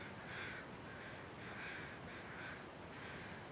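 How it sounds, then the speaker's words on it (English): Crows cawing faintly in the distance over steady wind noise in the snowy wilderness of the video game The Long Dark, with several soft, spaced calls. "there's some crows over there"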